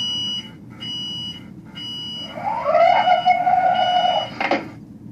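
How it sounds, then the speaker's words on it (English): A Lionel LionChief O scale Metro-North M7 toy train sounds its door-closing effect, a short electronic chime of steady tones repeated a few times and then a louder sustained tone ending in a brief clunk, close by. "that's actually the doors closing."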